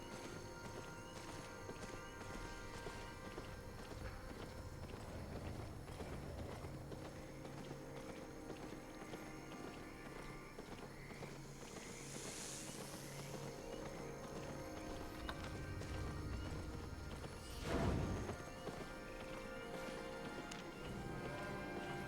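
Hoofbeats of a donkey mount trotting along in the Albion Online fantasy game, a steady clip-clop rhythm at moderate volume under game ambience, with a brief louder thud near the end.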